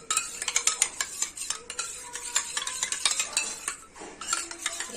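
Half a spoon of cornflour is stirred briskly into lukewarm water for malai kulfi, a quick run of close spoon clinks and swishing against a small vessel, with a short pause near the end.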